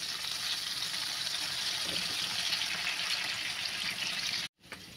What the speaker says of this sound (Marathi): आता पाण्याला उकळी आलेली आहे